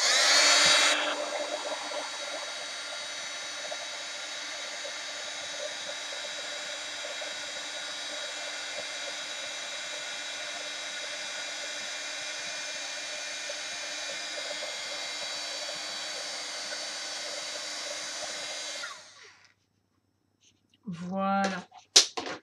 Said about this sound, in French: Je prends mon pistolet chauffant et je chauffe la poudre.